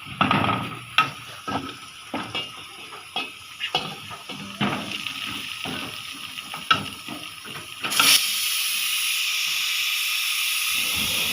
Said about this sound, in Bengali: এখানে প্রেশার কুকারে ডাল ডালটা আছে যে এই জন্য এখানে শীষ মারতেছে